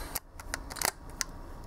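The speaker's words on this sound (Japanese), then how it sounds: "はい、巻き上げも滑らかに動いてますね。" Faint, close ratcheting clicks come from the film advance lever of a 1955 Leica M3 double-stroke rangefinder camera being wound, a few small taps in a quiet room.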